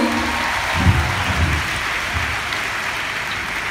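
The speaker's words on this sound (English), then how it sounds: "we all deserve a huge round of applause for all that we have become" Applause from an audience at a school event at Musaeus College, a steady, moderately distant wash of clapping throughout, with a few low thumps near the start.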